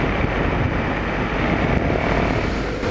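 A Yamaha MT-07 motorcycle rides over a broken, rough road, giving a steady loud engine drone mixed with wind noise up close.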